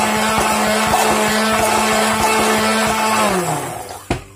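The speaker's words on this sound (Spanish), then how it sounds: "Pasada media hora, saco el helado del congelador y lo voy a batir" A blender whips vegan strawberry cheesecake ice cream, made Häagen-Dazs style, with a loud, steady motor whir that runs unbroken, then spins down and stops near the end, followed by a brief knock.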